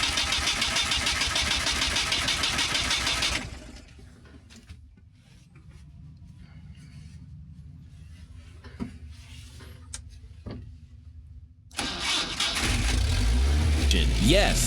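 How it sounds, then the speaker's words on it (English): An old, abandoned police SWAT truck engine cranks and roars to life after a quieter stretch with a few clicks, then runs loudly and roughly close by. "Yes, the vehicle has started."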